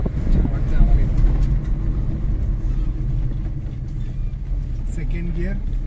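Car climbing a steep mountain road near Khed in low gear, a loud continuous low engine rumble throughout with people talking over it inside the cabin.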